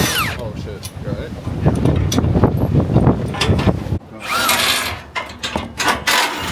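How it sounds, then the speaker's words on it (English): Strong wind buffets microphones outdoors at a shop where a car lift is being installed, a rough gusty rumble under people talking nearby. "It is super windy out here."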